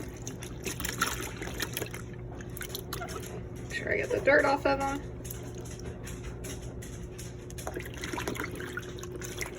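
Garden vegetables being pushed and swished around in a basin of water with a veggie wash soak, soft liquid sloshing and dribbling bursts under a person talking throughout.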